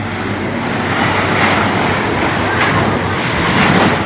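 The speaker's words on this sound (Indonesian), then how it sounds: "Laut pantai selatan ngamuk." Waves of the raging southern sea crash onto the beach, a loud continuous roar of surf with heavy wind buffeting the microphone and no let-up.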